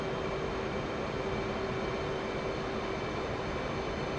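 Aircraft engine in a flight video game holding a steady, continuous drone with a constant tonal hum as the plane comes in for a carrier landing, no audible rise; no voices.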